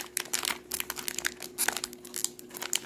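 Plastic packaging for a Killer Klowns from Outer Space key chain being handled and opened close up, with a busy stream of crinkling and tearing bursts.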